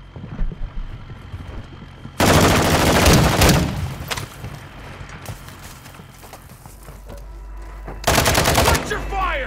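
Bursts of rapid automatic gunfire in the DMZ video game: two loud, dense volleys, the first lasting over a second and the second near the end, with quieter game ambience between.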